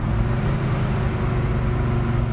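A 1967 Chevelle's 454ci V8 rumbles in a lower gear after a downshift, a loud, steady deep exhaust drone with no voices over it.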